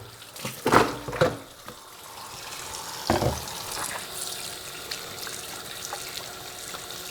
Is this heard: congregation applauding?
no